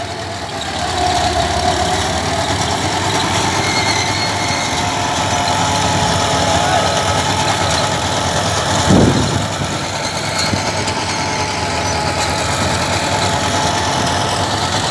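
A Massey 9500 tractor runs steadily while pulling a Raja 9 ft super seeder, a loud, continuous diesel drone with a brief bump near the middle and no talking.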